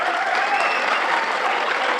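Dense, steady applause from an audience of men at a motivational talk fills the whole short stretch, close and even, with no talk over it.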